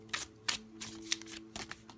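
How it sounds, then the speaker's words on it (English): A deck of cards being shuffled up close, several quick riffling bursts in an uneven rhythm, with no talking. "Okay, so let's give this a little shuffle."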